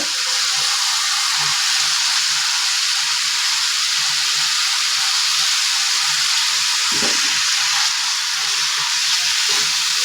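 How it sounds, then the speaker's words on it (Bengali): Swarputi fish sizzle in hot oil in a pan while a curry is cooked with onion and spices, a steady loud frying hiss with occasional faint clinks and no talk. "ফ্রাই করে উঠিয়ে রেখেছি এখন মাছ দিয়ে দেওয়া হচ্ছে"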